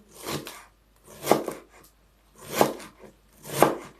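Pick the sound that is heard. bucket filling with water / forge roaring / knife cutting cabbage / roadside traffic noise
knife cutting cabbage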